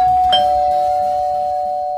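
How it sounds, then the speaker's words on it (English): A single electronic doorbell chime rings once and its tone lingers, fading slowly, with nothing else heard. "I think I'm gonna ring that doorbell"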